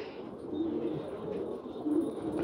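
Pigeons coo softly on a rooftop, a few low, muffled calls heard at a slight distance against a quiet background.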